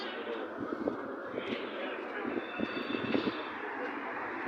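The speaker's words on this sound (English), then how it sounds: "This is the M10 tram going right here" The M10 tram rumbles past on a Berlin street at night with faint wheel squeals, under a steady wash of city noise and occasional nearby voices.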